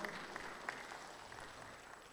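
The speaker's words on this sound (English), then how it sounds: "And a good round of applause for Engineer Mbarwa." Faint, steady applause from a crowd at the official launch of Kenya's road design manuals, greeting an engineer as he receives a gift, with no talking over it.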